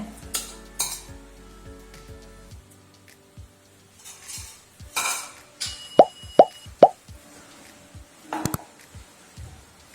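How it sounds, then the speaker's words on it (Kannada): Grated coconut added to ghee for coconut burfi, with spoon clinks, several sharp plopping taps and scraping against the pan amid a faint sizzle. "ತೆಂಗಿನ ತುರಿಯನ್ನು ಇದಕ್ಕೆ ಹಾಕ್ತಿದ್ದೀನಿ ತುಪ್ಪಕ್ಕೆ."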